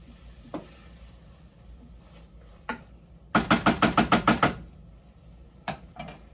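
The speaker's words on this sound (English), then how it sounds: "we're just going to saute those around, probably for about 3 to 4 minutes" Leeks, with asparagus, sautéing in a pan: a low sizzle runs underneath while a quick run of about eight rhythmic scraping stirs stands out midway, with a few isolated knocks before and after.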